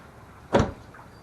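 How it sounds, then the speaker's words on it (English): The door of a 1997-2001 Toyota Camry with a replaced door handle opens in one brief, solid mechanical clunk against a quiet background. "Door opens like it should."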